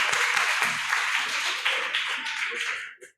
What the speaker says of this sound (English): Let's give it a round of Round of applause.